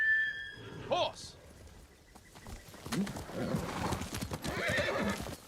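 In the samurai video game Ghost of Tsushima, a horse whinnies loudly and nearby, then hooves clip-clop in a quick, uneven rhythm as someone talks over the sound.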